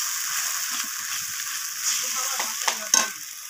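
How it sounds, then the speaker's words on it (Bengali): Spices sizzle steadily in hot oil in a pan for a Bengali fish dish, with soft scraping of a spoon stirring near the end and a few sharp clinks. "তো এরপর আমি মশলাটাকে তেলের সাথে নাড়াচাড়া করে নিলাম।"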